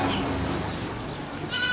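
A goat bleats in a rural setting where it is up for sale, giving a harsh, noisy cry close by that turns briefly more tonal near the end, with no talk over it.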